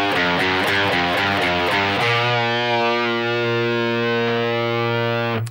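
Heavily distorted electric guitar plays a riff, a choppy rhythmic pattern of repeated chords for two seconds, then one loud sustained chord ringing out until it cuts off, with no voices.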